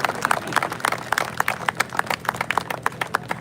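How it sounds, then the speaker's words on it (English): Sales team clapping at the DLF Parivana North property launch, a small group's sharp, uneven claps in quick succession, fairly close and without much crowd noise. "It's only the sales team that is clapping."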